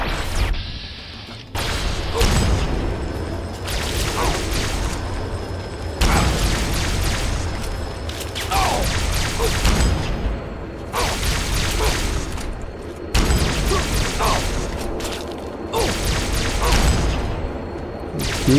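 Repeated bursts of gunfire and explosions pound a Chimera tank in Fallout 3, loud blasts recurring every few seconds with thuds and crashes between them, no talk.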